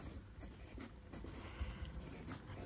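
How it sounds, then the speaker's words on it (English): A pen scratches across paper in short strokes, writing a name with a craft-supply marker, close and quiet, with no talking over it. "So when I write, like let's say, you know, I'll write my name"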